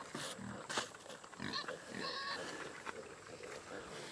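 Kune Kune pigs grunt and snuffle at feeding time on a farm, in short, close bursts over a busy outdoor background.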